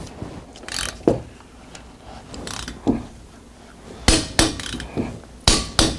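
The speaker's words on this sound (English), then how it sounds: "So now we're gonna torque the lug nuts." A torque wrench tightens Honda Accord lug nuts to 80 foot-pounds, heard as close ratcheting clicks and metallic knocks, irregular at first, then sharper, louder clicks clustered toward the end.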